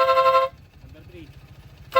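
A compact vehicle horn blares in a loud half-second blast, then cuts off leaving a low idling engine, and sounds again briefly at the end.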